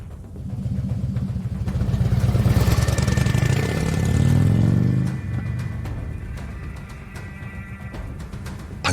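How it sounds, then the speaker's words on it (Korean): A motorcycle engine starts and revs loudly as a sound effect in an audio drama, rising to a throaty roar, then settling into a steady, slightly quieter running hum, close and continuous without speech. "시끄러운 소리를 내며 오토바이를 출발시켰다"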